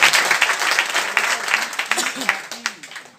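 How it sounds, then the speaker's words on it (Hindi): Audience applause at a Hindi-language network marketing talk, a crowd clapping steadily with sharp individual claps, loudest at the start and tapering slightly, with some voices audible underneath. "एक बार उस व्यक्ति के लिए जोरदार तालियां बजा दीजिए।"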